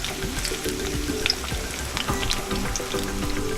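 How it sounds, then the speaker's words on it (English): Onions fry in a pan while a carp is being cooked, producing a steady, close crackling sizzle with small spattering pops and no talking. "More onions go in. Put more onions. Fried onions."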